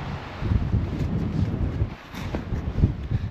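Wind blowing across frozen Abraham Lake in winter, a steady low rumbling buffet on the microphone with gusty swells, close and continuous, no voices.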